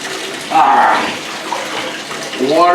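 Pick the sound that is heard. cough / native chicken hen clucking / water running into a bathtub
water running into a bathtub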